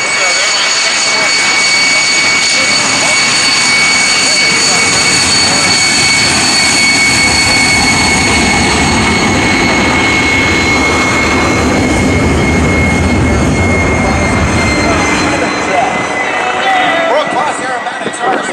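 Sukhoi Su-29 aerobatic plane at an air show in the USA, its engine a loud, continuous roar lasting the whole stretch, with a steady high whine above a broad rumbling wash and no clear pause.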